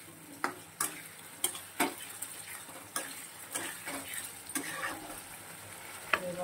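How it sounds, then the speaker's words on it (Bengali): Green chillies and masala fry in a pan over low gas, giving a steady moderate sizzle broken by sharp clicks and knocks of a spoon against the pan. "এবারে গ্যাসটা একদম কম করে দিয়ে মশলাটা কষাবো, ঢেকে ঢেকে"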